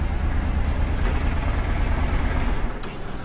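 A steady, low motorcycle engine idle from a Honda Shadow 750 rumbles continuously and evenly, close and fairly loud, with no other sounds standing out.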